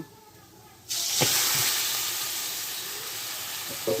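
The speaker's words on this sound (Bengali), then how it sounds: "আমাদের পেঁয়াজ সিদ্ধ হয়ে গেছে এখন আমরা এই মাছগুলো কড়াইয়ের ভিতরে দিয়ে দেব" Pangas fish pieces go into a wok with boiled onions, bursting into a loud, steady, close-up sizzle that continues with a few clinks of the utensil.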